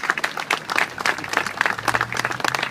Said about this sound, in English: I'd ask that we give him a big, big round of applause as well.